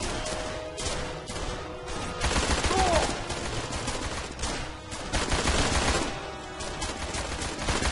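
Rapid bursts of gunfire fill a Blues and Bullets video game shootout, shots crackling loud and dense throughout with brief swells, while voices shout faintly beneath the barrage.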